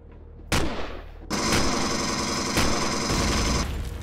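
Turret gunfire in the sci-fi survival game Empyrion Galactic Survival: a sharp shot, then a second burst that becomes a dense, sustained roar of firing with a few louder cracks, close and loud, with no talking.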